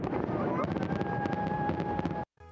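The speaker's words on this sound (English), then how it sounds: "Fireworks over Lake Blue Ridge on July 4th." July 4th fireworks over Lake Blue Ridge burst in a rapid run of crackling pops and bangs above a broad rumble, with a whistling tone rising through the barrage, before the sound cuts off abruptly near the end.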